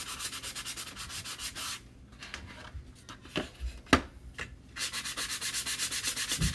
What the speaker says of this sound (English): You could use your palm sander if you wanted, or just your sanding block like I'm doing here.